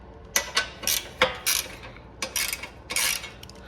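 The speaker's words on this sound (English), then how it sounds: "let's get this bolt loosened" Wrench loosening the bolts on a mini bike's chain cover: a quick series of short metallic ratcheting bursts, about eight clicks and rasps in irregular rhythm, close and moderately loud.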